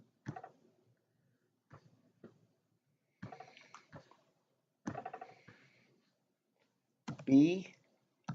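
Short bursts of computer keyboard typing as an email address is keyed in, clustered clicks separated by quiet gaps, close and fairly soft, with a brief sound like speech near the end.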